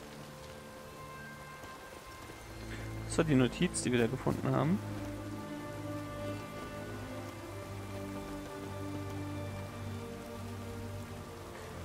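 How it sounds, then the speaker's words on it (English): Steady rain falls in The Witcher 3, a constant wash of patter over low ambient hum, while a brief stretch of speech rises over it near the start. "Looks like rain."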